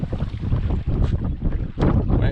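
Wind gusts across a lake in the Wabakimi boreal forest during a canoe trip, with close, rough buffeting rumble against the microphone that surges and eases.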